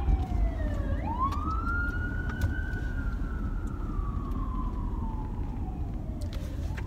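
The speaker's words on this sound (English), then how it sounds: "Okay, the ambulance is turning." An ambulance siren wails in a long rising and falling sweep, moderately distant, over steady road traffic rumble.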